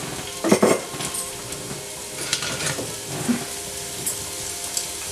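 Chopped ginger sizzling in hot oil in a pan, stirred with a utensil; clattering scrapes and knocks ride over a steady frying hiss, with no talk.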